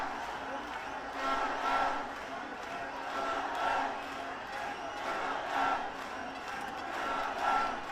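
Bangladesh football fans cheering at the SAFF U20 Championship final against India, a steady distant stadium crowd roar swelling in waves about every two seconds.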